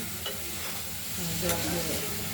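Masala spices sauté in oil in a pan for a boal fish curry with potatoes, tomatoes and beans, giving a steady, close frying hiss with a few soft stirring scrapes.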